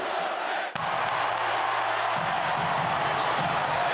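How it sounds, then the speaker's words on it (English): A basketball arena crowd roars continuously and loudly, a dense wash of cheering and shouting with no break. "that crowd went bonkers"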